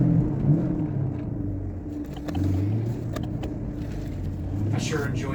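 A car travels at about 70 miles an hour on a highway, its steady low road rumble and engine drone filling the cabin under a voice talking.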